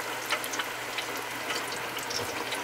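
Porterhouse steak sizzles in hot deep-fryer oil with a dense, steady crackling hiss, close and continuous with no voices.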